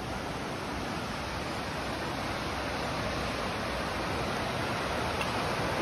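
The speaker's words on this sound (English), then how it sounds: "Some really kind of rugged rapids, but the most famous part of the trail." Rugged rapids on Pequea Creek at Susie's Hole rush in a steady, loud broadband roar of churning whitewater, constant and unbroken throughout with no voices.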